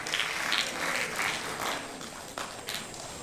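Audience applause at a symposium, a steady wash of many hands clapping with no clear gaps, moderately loud and continuous throughout.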